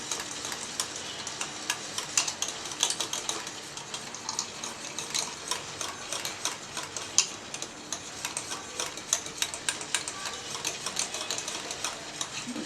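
A spoon stirs milk powder into a homemade cheese dip in a pan on the stove, giving soft rapid scraping and ticking clicks in an uneven steady rhythm, faint and close, with no talking.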